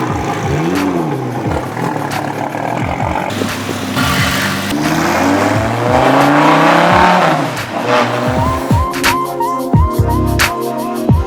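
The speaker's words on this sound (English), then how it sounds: "a little blip of the accelerator with the valves open" An Audi R8 V10 with an aftermarket valved exhaust revs loudly in sharp blips, valves open, the exhaust roaring up and dropping back repeatedly, close and aggressive.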